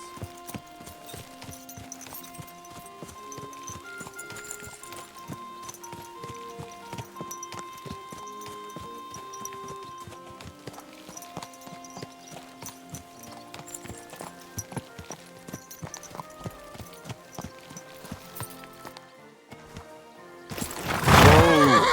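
Horse hooves clip-clop in a steady walking rhythm in the video game Kingdom Come: Deliverance II, over soft game music, before a sudden loud rushing burst at the very end.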